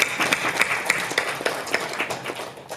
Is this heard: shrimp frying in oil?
no